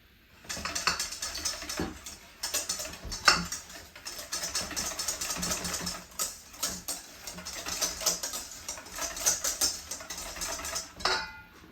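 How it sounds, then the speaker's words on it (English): A whisk beats yogurt into an egg mixture for a mozzarella egg bake, producing a fast, rhythmic clicking and scraping against the bowl that carries on steadily, close and moderately loud. "Then I'm going to add my yogurt. And whisk it together."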